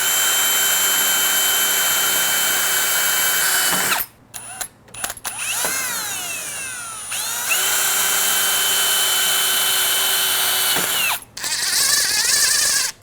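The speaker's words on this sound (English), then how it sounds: "I have a drill bit that is just smaller than the screws that it came with. I'm gonna pre-drill this." A power drill whirs steadily at high speed, briefly stopping and restarting with pitch sweeps as it pre-drills screw holes for a sliding door mortise lock latch, then running on again.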